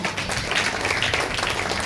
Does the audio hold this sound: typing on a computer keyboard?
no